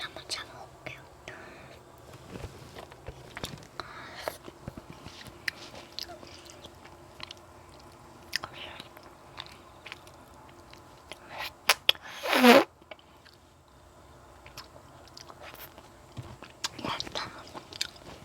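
Folded hard candy being bitten and chewed up close, with soft scattered crunches and one loud sharp crack near the middle, in an otherwise quiet setting.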